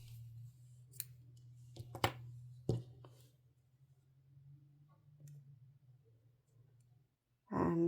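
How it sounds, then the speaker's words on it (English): Scissors snip through crochet yarn in a few quick, faint clicks early on over a steady low hum, followed by quiet near-silence and a brief louder rustle at the end. "Now you can cut the yarn."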